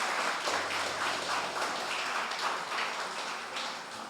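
A church congregation applauds during a sermon, a soft, distant wash of many hands clapping that stays even and continuous throughout.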